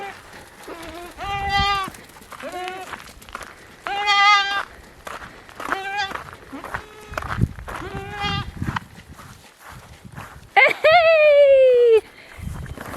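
Sheep bleat close by, several separate loud calls with short pauses, ending in one long, wavering bleat.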